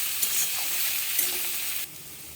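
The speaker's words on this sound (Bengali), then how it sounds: "আলু পেঁয়াজ দুটোকে একসঙ্গে ভালো করে ভাজবো" Potatoes and onions frying together in a pan for a Bengali capsicum and aloo fry, a steady close sizzle with light stirring scrapes that drops off abruptly near the end.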